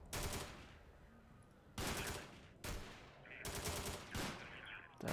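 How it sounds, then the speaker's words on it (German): Sustained bursts of gunfire in the zombie video game War Of The Zombie, loud clustered volleys separated by short lulls, with faint sounds under the shooting. "schieß weiter, immer schon weiter schießen"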